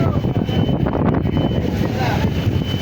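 Strong wind buffets the microphone near a service boat out on the water, a loud continuous rumbling roar with gusty low-end surges that holds steady throughout.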